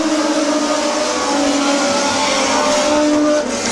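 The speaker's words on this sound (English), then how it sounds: "we're off and racing down the back stretch" Race cars roaring around the Midvale Speedway oval in a continuous loud, sustained engine drone with steady tonal whine, several cars running together without a break.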